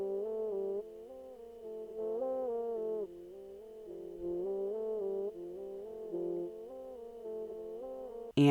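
Lead melody in a beat, pitched down and reversed, plays as a slow run of swelling, harmonically rich notes that step between pitches, ending in a brief louder burst.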